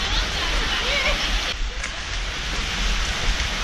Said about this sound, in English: Get a bit closer to the waterfall.